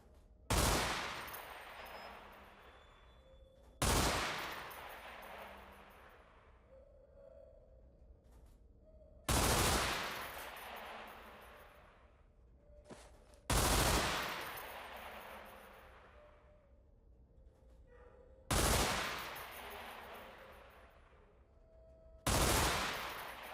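Gunfire at a shooting range in the video game Underhell, six loud, sharp shots spaced several seconds apart, each ringing out with a long echoing tail that fades before the next.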